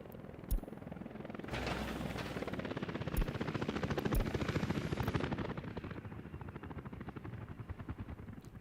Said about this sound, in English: So much of the heavy lifting was done by helicopters.